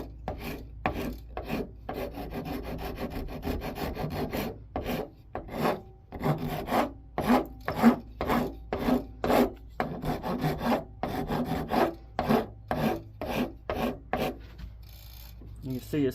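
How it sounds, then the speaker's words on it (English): A rasp files a wooden double barley twist candlestick on a lathe, with rhythmic, close rasping strokes repeating steadily, short pauses between each pull. "I need to pull my rasp towards me"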